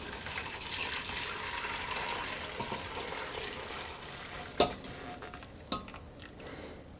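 Chicken broth for lemongrass-flavored soup is strained over lemongrass, giving a soft, continuous watery rush close by, broken by two sharp clinks of a pot or utensil near the end, with no talking.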